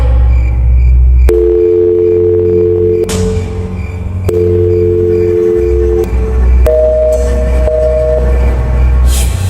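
A telephone tone for a switched-off phone plays loud and alone, steady beeping tones in repeated segments that step up in pitch toward the end.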